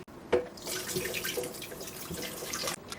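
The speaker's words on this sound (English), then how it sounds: "we're going to take the canister from our high-speed blender and pour our mixture into it." A liquid mixture pours steadily into a high-speed blender canister over a sink, a continuous watery rush with a brief clunk at the start and no talking.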